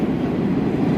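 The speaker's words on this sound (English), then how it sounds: "my train is coming right now" A metro train arriving at a Moscow station rumbles steadily with a low, continuous roar, fairly loud and close, no voices heard.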